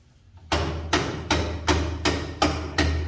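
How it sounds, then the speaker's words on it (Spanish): Seven evenly spaced, solid thuds of a rubber mallet tapping the crankcase of a 2006 Yamaha YZ250F motorcycle being restored, each knock close and loud with a short decay, after a brief quiet start. "unos golpecitos con martillo de goma"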